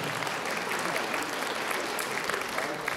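Concert audience applauding at a youth music project event in Molodechno, a dense continuous wash of many hands clapping, steady and fairly distant, with faint crowd murmur underneath.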